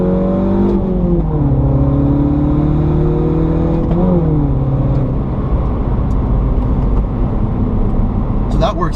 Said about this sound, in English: it has active rev matching. So if I go from 4th to 3rd, foot's all the way off the brake